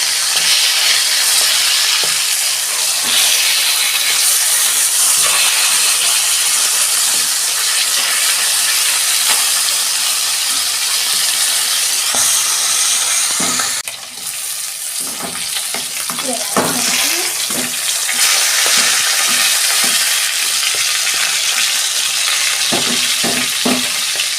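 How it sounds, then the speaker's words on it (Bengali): Chicken pieces frying in oil in a pan for chicken masala legs, a steady loud sizzle throughout with brief bursts of clatter and spatter partway through as the pieces are turned. "চিকেনগুলো একটু ভেজে নেব"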